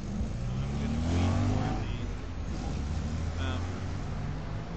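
Sparse Super Bowl gameday street traffic by an intersection near the Great Mall, a steady engine hum with a car passing close around the first second or two, then continuing road noise beneath a talking voice.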